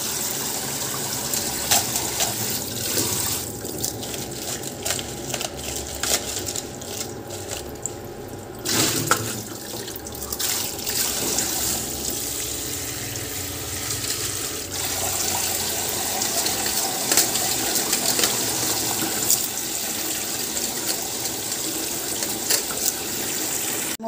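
Running water gushes steadily while a shop is scrubbed and rinsed clean, a continuous broadband wash of splashing and flow lasting throughout, close and fairly loud with no talking.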